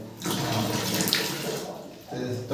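Hot water gushing from the tap of a newly installed water heater at home, a steady close rush that breaks off briefly and then resumes.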